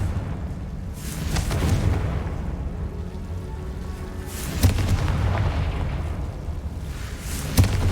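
Confringo fire spell blasts in the Hogwarts Legacy video game, a sustained rumbling roar with two sharp explosive bursts near the middle and end, loud and without speech.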